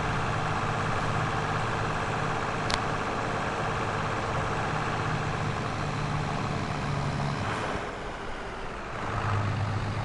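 A small tractor engine in the Farming Simulator 22 video game runs under heavy load as a steady, loud drone, with a brief dip near the end before the engine picks back up.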